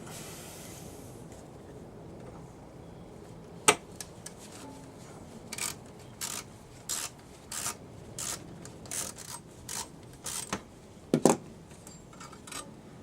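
A screwdriver is used to remove the foot from a bandsaw, producing quiet, intermittent scraping, rubbing and small metallic clicks in short bursts against faint background hiss.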